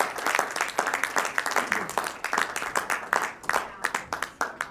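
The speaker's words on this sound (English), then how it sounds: "A big round of applause, please." An audience claps at a business meeting as a charter member is called on stage, a lively run of many hands clapping close by, with a voice talking over it.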